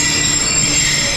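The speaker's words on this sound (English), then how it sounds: "Multan train station." A train at Multan railway station in Pakistan gives a loud, continuous rumble with a high, steady wheel squeal running through it, close and unbroken.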